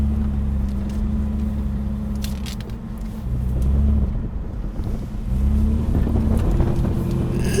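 Car engine idling and then pulling away outdoors with a steady low drone that swells in two surges, with wind buffeting the microphone.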